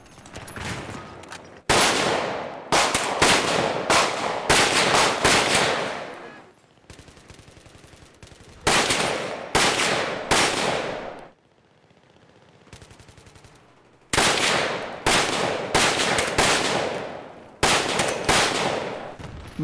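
Steyr AUG A3 bullpup rifle firing in several rapid bursts of loud, close shots, with short pauses between strings of fire and gaps of quiet around the middle.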